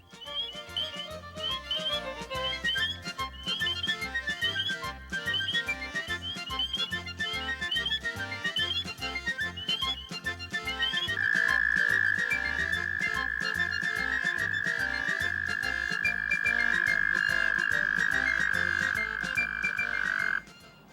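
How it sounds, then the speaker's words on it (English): Frogs call in rapid, repeated pulsing trills over a steady low chorus, then a long sustained high trill takes over, loud and continuous. "frogs can produce astonishing music. Just listen."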